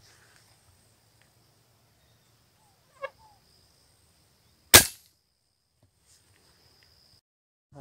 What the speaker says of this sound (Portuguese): deu um tiro agora